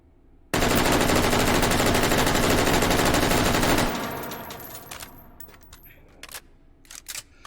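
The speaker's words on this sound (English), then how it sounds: "If it's not obvious, this is my go-to assault rifle." An assault rifle in the VR shooter Hot Dogs, Horseshoes, and Hand Grenades (H3VR) fires a loud, unbroken automatic burst for about three seconds, followed by a fading echo and scattered light metallic clinks.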